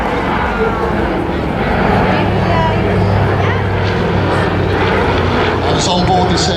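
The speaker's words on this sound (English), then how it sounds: "from the south, from your left, history on the wing, the PBY Catalina" A PBY Catalina flying boat passes at an airshow, its engine drone broad and steady across the whole span, heard under continuous commentary over a loudspeaker.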